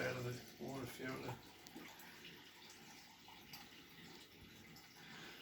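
Filtered water pours from a water filter in a steady, fairly quiet stream of splashing that runs on after a brief stretch of talk at the start.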